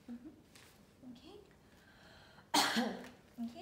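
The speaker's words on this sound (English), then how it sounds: "it was a productive cough and there was no sputum" A patient coughs into a napkin in a clinical setting during a nebulizer treatment: one sharp, close cough burst, with quieter voices and throat sounds before and after.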